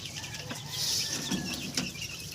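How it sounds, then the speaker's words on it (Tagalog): Chickens clucking softly nearby, a few short calls and rustling over a quiet farmyard background. "Napakain na rin natin yung mga manok natin guys."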